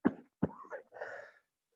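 A man coughs hard in two sharp bursts, then gives a rougher, throaty hack with a wheezy trailing breath, all close up and with no other sound.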